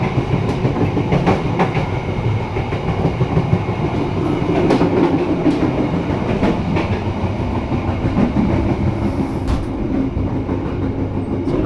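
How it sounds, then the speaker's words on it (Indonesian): The Taksaka passenger train rolls along the rails between Jakarta and Yogyakarta, heard from inside the carriage, with a steady loud rumble and repeated clickety-clack wheel beats over rail joints, no voices. "Sebentar lagi kereta api Taksaka akan berhenti di stasiun Linggapura."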